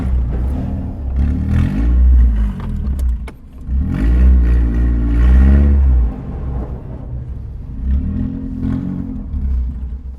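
A lowered Scion xB drives along with its tires rubbing against the bodywork, a loud, close engine hum that swells and eases in waves with scraping and clatter mixed in.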